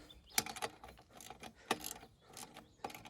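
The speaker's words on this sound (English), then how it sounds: "And then we just nip these bolts up here." Metal bolts on an Alaskan chainsaw mill are tightened with a wrench, giving a few sharp ratcheting clicks and clanks in short bursts, close and fairly quiet with pauses between turns.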